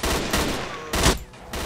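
Gunfire in a Stalker: Call of Pripyat firefight: rapid loud bursts of rifle shots, several sharp cracks close together with echoing tails.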